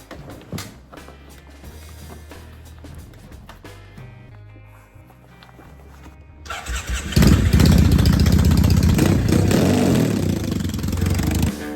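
A Triumph motorcycle engine cranks over with a few starter clicks and whirring, then catches and roars into a loud, close, steady idle.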